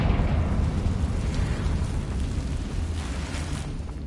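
Confringo fire spell blast in the Hogwarts Legacy video game, a loud, sustained rumbling explosion with dense low-end roar lasting several seconds, no talking.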